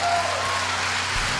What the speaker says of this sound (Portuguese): aplauda bem forte o céu